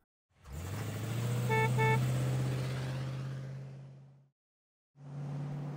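A cartoon car trundles along in a children's read-along story about a seaside trip: a steady humming engine tone with a pair of short horn toots, a brief pause, then the hum resumes.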